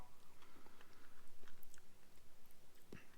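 Someone eats crushed 4% fat cottage cheese, giving soft, close, repeated wet chewing and mouth sounds in a steady rhythm, with no talking.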